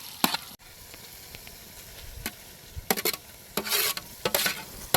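Onions hit a hot pan for a village-style country chicken gravy and crackle as a spatula stirs, steady sizzling under bursts of louder scraping and clanking, with no talk.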